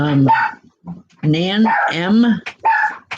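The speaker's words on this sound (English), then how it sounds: "Apologize for the dogs, folks." Dogs barking indoors during a spiritual reading session, sharp yips and barks mixed in with someone speaking over them.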